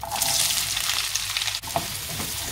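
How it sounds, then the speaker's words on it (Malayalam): About 150 grams of small onions sauté in hot oil for mutton chukka, a loud, busy sizzle up close, with a sharp scrape of stirring partway through and then continued frying. "നന്നായിട്ട് വഴറ്റി കൊടുക്കാം."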